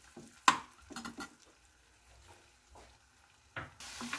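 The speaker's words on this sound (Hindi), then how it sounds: "अब इसमें ये हरा मिर्च, अदरक और लहसुन डाल दीजिए, बस इसे इतना ही पकाना है कि इसका कच्चापन निकल जाए।" Green chili, ginger and garlic fry in a pan with a faint, intermittent sizzle, broken by a few close scrapes and clinks of a spoon stirring against the pan; no one talks.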